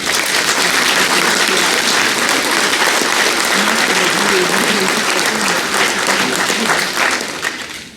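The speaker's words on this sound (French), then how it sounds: "je vous propose de les applaudir pour leur engagement au quotidien" Loud, dense applause from a large audience at a mayor's New Year's greetings ceremony in a French town, steady clapping throughout that tails off at the end.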